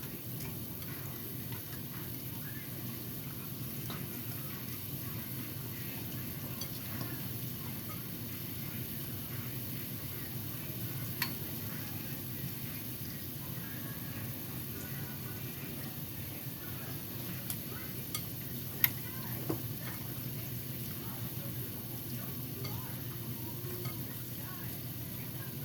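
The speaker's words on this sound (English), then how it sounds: "And now I'm going to go ahead and mix this all in" Shrimp and lobster pasta with lemon pepper sizzles steadily in a pan as it is stirred, a constant soft frying hiss with occasional faint clicks of the utensil, close and with no voices.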